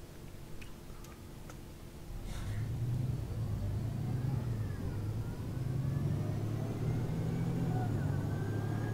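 A MAN Lion's City Euro 6 bus in OMSI 2 starts with soft ticking, then its engine rises into a steady low diesel drone that grows louder and shifts pitch as it pulls away.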